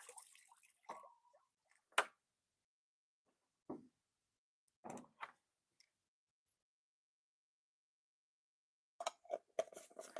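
Sparse, faint water drips and small splashy taps from rinsing something off, scattered irregularly through near silence, with a short cluster of wet ticks toward the end.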